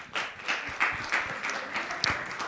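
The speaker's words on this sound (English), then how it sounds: "Clap your hand." A small group claps steadily, with a scattering of brief cheers rising over the applause.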